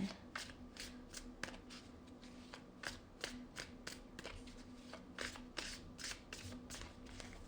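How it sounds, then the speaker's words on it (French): Tarot cards shuffled by hand in a quiet room, giving a steady run of close, crisp riffling snaps and soft slides, repeated over and over with no talk. "Je dois continuer à brasser."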